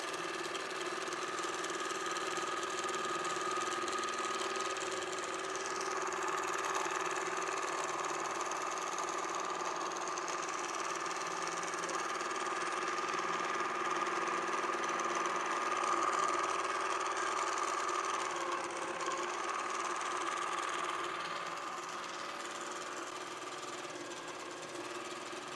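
An INNOVA AutoPilot longarm quilting machine runs steadily while stitching a border, giving a continuous close mechanical hum with a faint whine and fine buzz that swells slightly and eases near the end.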